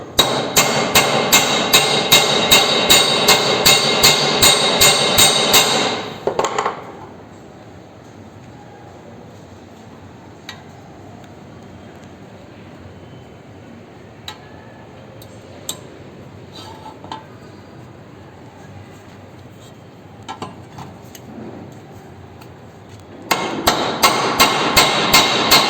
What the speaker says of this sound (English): hammer is used.